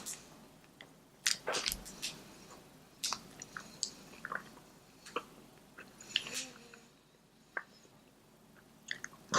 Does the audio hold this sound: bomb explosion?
no